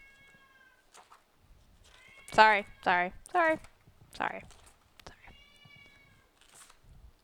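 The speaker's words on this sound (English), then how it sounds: "Oh, cat." A cat meows several times in a row, three strong harmonic calls close together followed by a shorter one, loud and close, with a person's voice speaking briefly around them.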